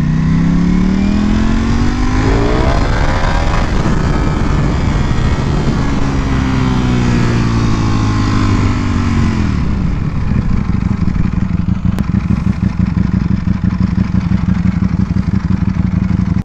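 A Ducati V4S motorcycle engine under way while riding: a loud, continuous, close roar that rises and falls in pitch through several throttle changes, then settles into a steady drone.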